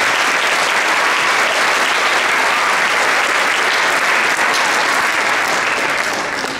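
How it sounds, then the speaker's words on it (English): Loud, full audience applause for a young artist at a Muslim American cultures celebration, dense and unbroken for the whole stretch with no voices over it. "A big round of applause for our budding artist."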